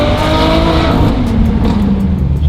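Straight-piped V12 Ferrari engine revving hard and loud up close, a dense continuous roar with rising pitch and faint ticking pops near the end.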